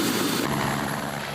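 Helicopter flying over Carlton Reserve, a large wilderness area, with a steady, loud rotor and engine drone heard from on board, continuous and unbroken with no talk.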